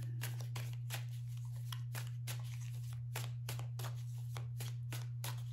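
Tarot cards shuffled by hand in a rapid, steady run of crisp riffling flicks, close and continuous over a low electrical hum.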